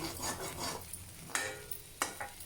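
Okra fries in a pan while a utensil stirs and scrapes it, giving soft sizzling broken by a few sharp metallic clinks; quiet and close, with no talking.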